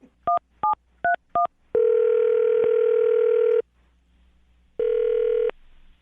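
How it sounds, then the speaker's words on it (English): Telephone keypad dialing a number: four short touch-tone beeps in quick succession, then a long steady ringback tone of nearly two seconds, a pause, and a second shorter ring tone, clear and alone. "I'm going to dial the phone number right now, get him on the phone"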